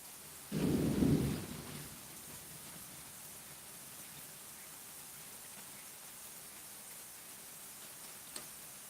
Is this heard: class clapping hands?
no